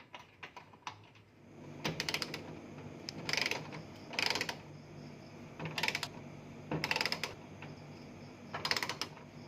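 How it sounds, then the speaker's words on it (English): Ratchet tightening the screw bolts of an engine cross member, quick bursts of rapid clicking in short repeated strokes with pauses between, close and moderately loud. "Ensure the cross member lines up properly with the frame and securely tighten all the screw bolts."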